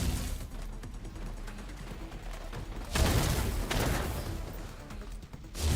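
Mag pulse and laser rapier weapons firing in the System Shock video game make bursts of harsh crackling blasts, several loud hits in quick succession with no talk.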